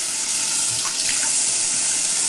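A tap running steadily, a loud hissing rush of water close by that holds constant and alone.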